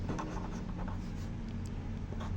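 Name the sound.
writing on the board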